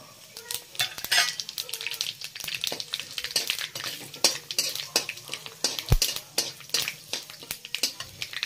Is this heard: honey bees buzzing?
no